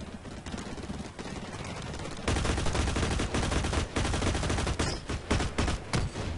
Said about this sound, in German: ich schieß die ganze Zeit auf den drauf und der einfach einmal zurückschießen und schon bin ich tot